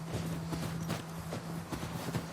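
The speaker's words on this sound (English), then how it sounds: "the horses follow us" Horse hooves in The Last of Us Part II clip-clop in a steady walking rhythm close behind, soft thuds repeating over a constant low hum of game ambience.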